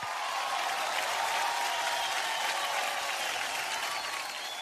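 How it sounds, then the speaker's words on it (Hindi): A large audience applauds at an award show, a dense, even roar of clapping that holds steady from start to finish, heard from within the hall with little talk. "बार जोरदार तालियां हो जाए"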